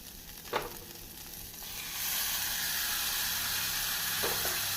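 Onions fry in a pan for brinjal thokku, and then ground tomato paste is added. A soft, steady sizzle swells into a louder, fuller hiss partway through. Brief stirring scrapes are heard near the start and again near the end.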